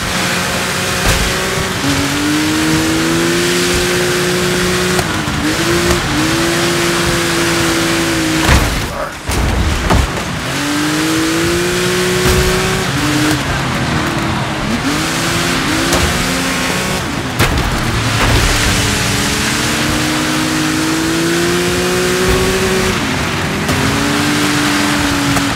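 Off-road car engine in the racing game Dirt 5 at an Ultra Cross event, revving and shifting continuously through a drifting run, with a brief impact thump partway through, loud and constant.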